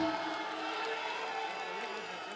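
Loud, continuous crowd noise from a mushaira audience in Bhopal, dense clapping and cheering blended into a steady roar that holds for the whole stretch.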